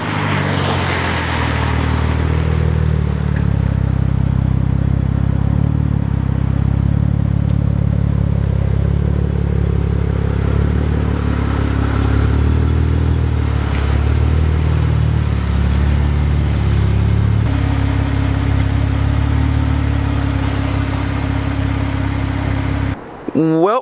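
A 2017 Infiniti Q60 engine runs steadily at idle, a low continuous hum with faint clatter throughout, cutting off at the very end.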